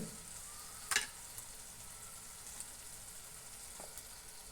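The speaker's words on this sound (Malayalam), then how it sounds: "ഞാനിപ്പോൾ 2 മുട്ടയാണ് ഒഴിച്ച് കൊടുക്കുന്നത്." Two eggs poured into hot egg gravy in a pan, a faint steady simmering hiss with one brief clatter near the start and a few soft ticks, no talking.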